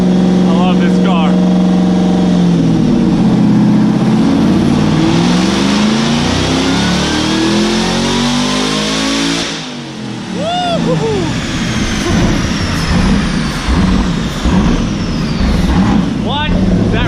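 A retired police-car Ford Mustang GT500 with boost and nitrous revs hard, a loud roaring engine that climbs in pitch, cuts off briefly, then roars on with crackling, uneven rumble.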